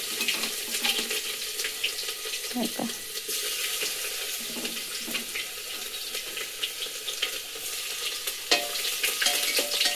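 Tempering of cumin, mustard seeds, curry leaves and ground garlic sizzling in hot oil, a steady bright crackle with occasional sharper pops, close and fairly loud, with faint household sounds behind.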